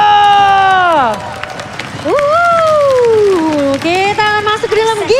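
An audience cheers and shouts loudly at an MPL Indonesia playoff esports match, with long rising and falling vocal yells over crowd noise and an announcer talking.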